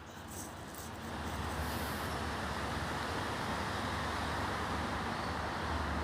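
A red Ducati motorcycle at a motorcycle dealership runs with a loud, continuous rumbling roar that swells slightly in the first second, then holds steady with no talking.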